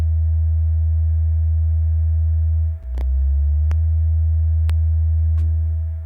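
Low-frequency sine tone of about 24 hertz played through a speaker beside ferrofluid: a loud, steady hum that dips once, with a few faint clicks and short chirps along the way.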